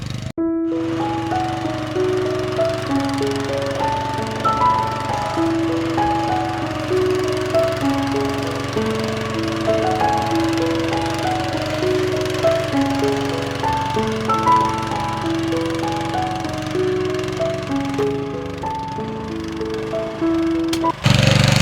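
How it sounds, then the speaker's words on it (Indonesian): A motorized tiller churning and loosening soil in a former onion field, its engine droning steadily and close throughout with a rhythmic, knocking pulse and no voices. "Jadi ini adalah proses dilakukannya penggemburan tanah atau pembalikan tanah, yaitu dengan alat pencacah mesin."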